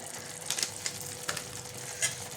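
Spice paste with salt, Kashmiri red chili powder and garam masala fries in oil in a pan. There is a steady close sizzle with a few soft stirring scrapes and clicks, and no talk.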